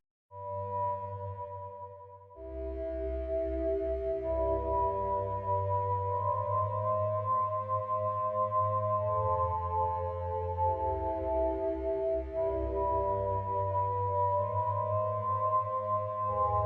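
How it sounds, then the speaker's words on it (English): Soft, sustained synthesizer chords drift and shift slowly, smooth and reverberant, with no talking. "this actually could make a really cool pad sound"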